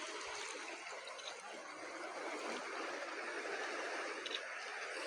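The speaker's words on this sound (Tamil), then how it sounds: "தண்ணி எவ்வளோ ஃபோர்ஸாக போகுது, பார்த்தாலே பயமாக இருக்குது." Water rushing forcefully through a contour canal in forested hills near a dam, a steady, broad roar of flowing water heard from some distance, even and unbroken with no voices.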